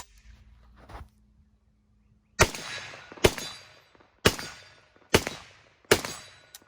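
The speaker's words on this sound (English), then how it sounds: "Let's take a few shots with this one." Five sharp, loud gunshots from a Zastava ZPAP M85 rifle ring out at a steady, deliberate pace, each crack trailing off in a short echo, with a faint clatter beforehand.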